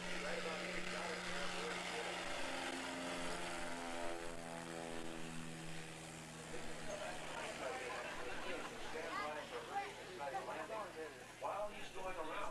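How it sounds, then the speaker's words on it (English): A Piper Super Cub at full throttle on its takeoff roll, the propeller engine droning steadily with a falling, sweeping tone as it passes close by, loud throughout with background noise underneath. "That's a Piper Super Cub flown by one of the best in the business"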